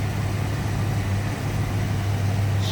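A 1990 Ford Mustang ASC McLaren convertible with a 5-liter V8 idles steadily and smoothly, a deep constant engine hum close by with no talking.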